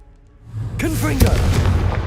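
A Confringo fire spell detonates in Hogwarts Legacy, a loud booming blast that builds over a rumbling swell and holds a dense roar with a voice shouting over it.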